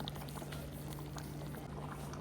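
Chickpea curry bubbles in a covered pot, a steady close simmering fizz with soft pops that continues evenly throughout, no voices.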